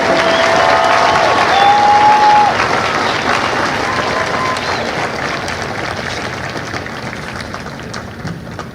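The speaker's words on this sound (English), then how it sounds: "please join me in a round of applause for the company staff of Company D" A dense wash of applause from a large crowd fills a Marine Corps Recruit Depot San Diego graduation ceremony for Delta Company, steady and loud before slowly thinning, with faint whistles and a murmur of voices beneath.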